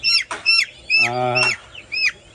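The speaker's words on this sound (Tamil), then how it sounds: "இவங்க தான் பிளாக் அஸ்ட்ரலோ இது வந்து முட்டைக்கோழி தான்" Black Australorp laying hens cluck and squawk nearby in short bursts, with a longer harsh squawk in the middle, repeated several times.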